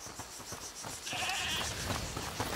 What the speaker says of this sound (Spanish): ¿Es la cabra que mencionó?